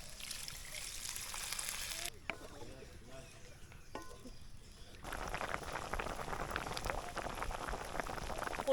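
Coconut broth with young buko boiling in a cooking pot, a steady bubbling hiss that carries through the clip, quieter for a few seconds in the middle.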